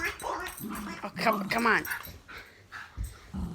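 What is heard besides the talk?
dog growling while refusing to give up its ball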